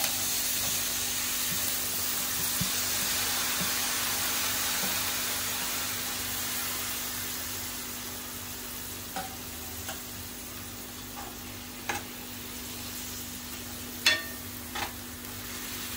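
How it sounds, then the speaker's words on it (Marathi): Whole masoor lentils go into a cooked-down masala in a pan, giving a steady sizzle and fry hiss with occasional scraping stirs that grow more distinct toward the end; close, with no voices. "आता आपण मसूर घालूया। सगळी मसूर घालते मी।"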